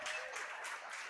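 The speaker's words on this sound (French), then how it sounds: "Applaudissons, applaudissons-le pour cela." Audience at a conference on digital freedom and surveillance applauding, a brief, dense patter of clapping that is steady and moderately close.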